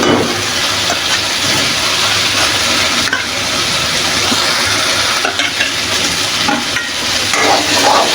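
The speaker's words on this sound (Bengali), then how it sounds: "তেল আসলে এখন আমি আলুগুলো দিয়ে দিব।" Potatoes frying in hot oil for an egg and potato curry crackle in a loud, dense sizzle that runs unbroken throughout, with occasional soft stirring scrapes and no speech.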